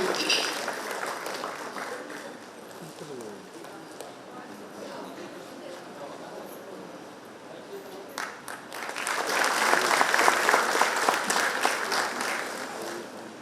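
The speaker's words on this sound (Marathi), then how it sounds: "जोरदार टाळ्या करतो आजच्या प्रायोजकत्वासाठी" An audience at a Diwali morning music celebration in Saswad claps, with scattered applause that swells into a louder, denser round toward the end.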